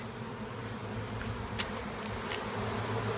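A honeybee swarm buzzes steadily at a hive box while bees fan at the entrance, a dense, continuous drone at moderate level with a few louder individual bees passing close by.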